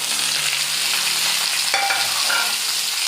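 Tomatoes go into a pan of browned onions for masala bread and fry with a loud, steady, close sizzle, with brief stirring scrapes partway through.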